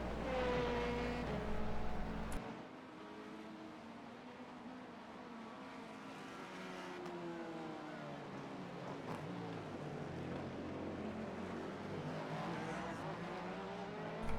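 Hypercar race engines in an IMSA endurance racing video game, a loud sustained engine roar with shifting pitch as cars run together, one dropping off sharply after the first couple of seconds, continuous and close throughout.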